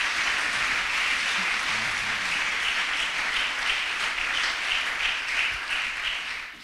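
A church congregation applauding during a service, steady dense clapping from many hands that swells slightly and continues throughout before fading at the very end.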